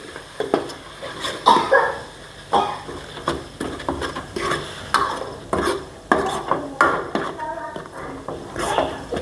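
Ginger-garlic paste being stirred into whole spices frying in a pan for homemade shev bhaji, with repeated scraping and clinking strokes of a spoon against the vessel over a soft sizzle, and a voice talking at times.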